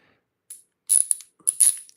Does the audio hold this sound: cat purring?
no